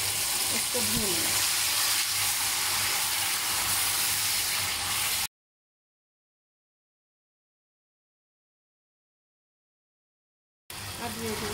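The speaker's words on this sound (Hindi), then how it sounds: "ये मसाला इसमें डाल के तो अच्छे तरीके से इसी तेल में इसको भूनना" Masala spices fry in oil in a pan for a fish dish, giving a steady, close hissing sizzle that cuts to a long stretch of silence and then briefly returns.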